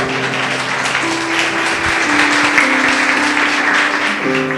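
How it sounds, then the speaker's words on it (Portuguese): A church congregation claps loudly in praise, a dense continuous wash of hands with sustained organ or keyboard chords underneath throughout. "Louve ao Senhor com as suas palmas bem forte."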